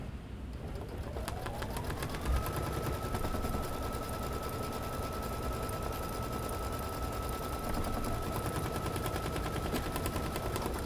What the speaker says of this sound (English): we're running our placement stitch for our final border piece